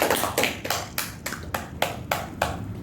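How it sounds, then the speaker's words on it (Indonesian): Steady, evenly spaced hand claps, about nine in a regular rhythm, welcoming a speaker at a public speaking seminar; fairly close and clear, with no talking. "Dengan tepuk tangan yang paling meriah"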